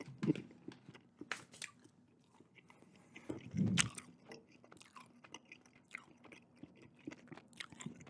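Sour apple Big League Chew gum chewed close to the microphone, soft wet smacking and occasional crunchy bites in an irregular rhythm, quiet and intimate.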